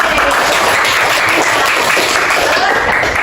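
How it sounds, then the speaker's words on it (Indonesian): Classroom applause rewarding a student's correct answer in a science lesson, a steady dense wash of many hands clapping together, loud and continuous without pause. "Tepuk tangan untuk Anda."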